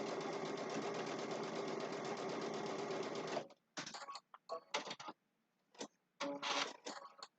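A sewing machine stitches a Christmas table runner, running steadily and loudly for several seconds, then stopping and restarting in short, choppy bursts separated by silence.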